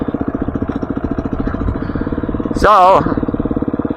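A motorcycle engine thumps in a steady, rhythmic pulse while riding slowly along a road in Nevada, loud and close, with a brief voice cutting in partway through.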